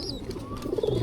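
Racing pigeons cooing at a pigeon market in Pringsewu, a short, close, throaty coo rising over busy market background noise.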